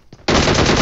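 Automatic gunfire in the PUBG Mobile video game erupts after a short faint lead-in, a loud, rapid, continuous burst that lasts until the end.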